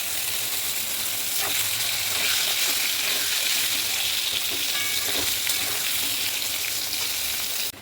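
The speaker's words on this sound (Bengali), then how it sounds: "এবার আলু আর বেগুনগুলো আমি তেলের মধ্যে দিয়ে একটু ভাজা করে নেব।" Cubed potatoes and eggplant fry in hot oil seasoned with black cumin, a loud continuous sizzle and crackle close up, with occasional stirring scrapes and no talking.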